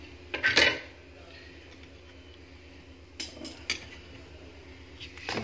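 A metal lid lifted off a pot of steamed jaggery rice, with a cluster of clanks and clinks at the start and a few lighter clatters later in a quiet kitchen.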